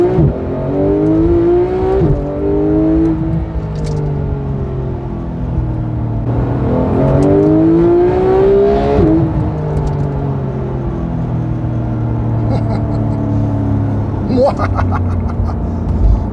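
Porsche 911 GT3 engine revving under throttle, loud and close, with its pitch sweeping upward in repeated climbs and easing between pulls, while someone talks over it.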